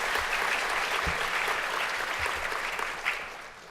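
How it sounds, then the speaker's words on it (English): A conference audience gives a quick round of applause for the panel speakers, a steady dense wash of clapping from a crowd in a hall, fairly loud and even before tapering slightly at the end. "let me just do a quick round of applause for our"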